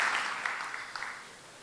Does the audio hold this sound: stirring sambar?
no